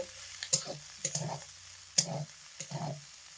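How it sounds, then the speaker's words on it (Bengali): A utensil stirs fried puishak (Malabar spinach) seeds with garlic and chili in a pan over low heat, making about five soft scraping strokes with a faint sizzle in a quiet kitchen. "হালকা একটু এইভাবে নাড়াচাড়া করে দিলাম"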